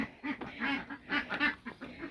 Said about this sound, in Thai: ไหนไหนอันนี้ก็เป็ดนะคะทุกคน